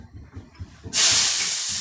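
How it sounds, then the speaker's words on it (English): After a brief low murmur, a loud sudden sizzle erupts as garlic hits hot oil, a bright steady hiss that continues. "you hear that sear, that sizzle?"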